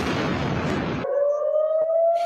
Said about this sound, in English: Air raid sirens sounding across Israel